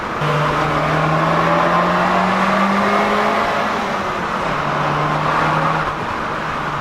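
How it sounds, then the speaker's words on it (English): A loud, close Abarth car engine revs hard and holds at the rev limiter, its droning buzz rising and sustaining before briefly easing and climbing again, with no talking over it. "Hit the rev limiter."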